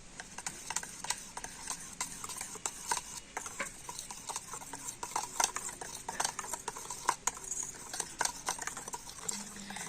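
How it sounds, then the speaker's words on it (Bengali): A batter of soaked rice, flour and a pinch of salt being beaten hard in a bowl: a steady run of quick, clattering taps and scrapes that continues without pause, close by. "আর এবার একটা ব্লেন্ডার দিয়ে ভালো করে ফেটিয়ে নেব।"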